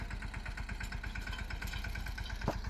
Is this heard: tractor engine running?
yes